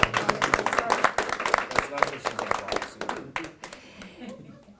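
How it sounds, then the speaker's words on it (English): A small classroom group claps in a quick burst of sharp, distinct hand claps that thins out and stops, close by, with voices speaking over part of it. "Give Jolene a round of applause."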